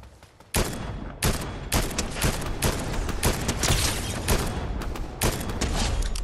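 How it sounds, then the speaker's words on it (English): Rapid gunfire in a video game while shooting a boar, loud close bursts of shots in dense volleys that begin abruptly and continue almost without pause, with no talking. "They're shooting the boar"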